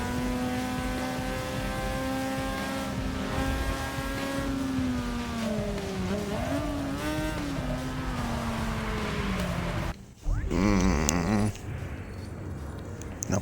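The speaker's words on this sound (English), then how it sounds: "the car was making that terrible noise" A race car engine in Forza Motorsport 6 revs hard and steady at maximum revs, its pitch wavering up and down, then cuts out abruptly into a brief rougher burst of mechanical noise.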